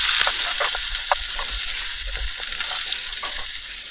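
Potato pieces fry in a hot pan with a steady, close sizzle and occasional stirring scrapes, no voices.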